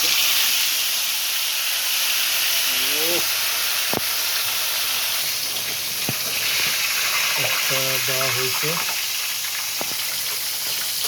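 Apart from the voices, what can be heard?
fish frying in oil, two pieces at a time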